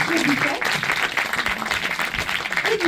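An audience gives steady, dense applause, filling the whole moment with continuous clapping, close and fairly loud.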